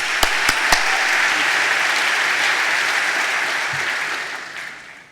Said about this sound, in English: With your applause, welcome Kevin to the microphone.